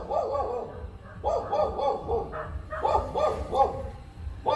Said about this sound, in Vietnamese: Có chó.